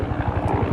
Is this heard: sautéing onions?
no